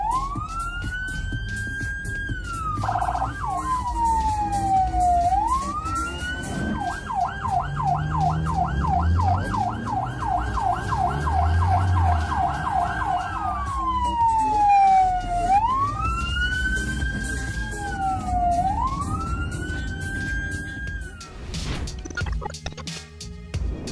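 Ambulance siren wailing up and down, then switching to a rapid yelp before returning to slow wails, moderately near, with traffic rumble underneath.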